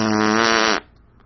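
A loud, close fart lasting under a second, a steady buzzing tone that cuts off abruptly, followed by quiet room noise.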